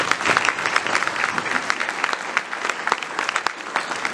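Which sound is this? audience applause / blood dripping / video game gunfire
audience applause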